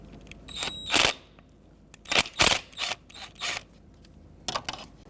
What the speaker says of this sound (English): using a 13mm socket, I'm going to loosen up the center nut.